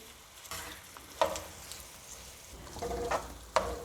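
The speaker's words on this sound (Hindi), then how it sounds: "अब मीडियम फ्लेम पे हम इन प्याज को डार्क ब्राउन करेंगे।" Two medium onions fry in a cup of oil over a medium flame for beef pulao, a soft steady sizzle punctuated by several sharp scraping stirs of a spoon against the pot.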